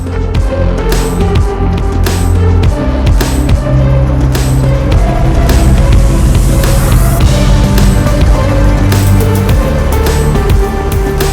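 A Dodge D-600 truck, abandoned for 23 years, rolls off a trailer with a loud, continuous engine rumble and clattering mechanical knocks close by, with no talk over it.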